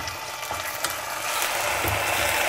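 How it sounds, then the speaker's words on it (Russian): Chicken breast cut into thin slices sizzles steadily in hot oil in a pan over medium heat, a continuous close crackle that grows slightly louder and denser partway through, with faint stirring scrapes. "И обжарить грудинку курицы немного."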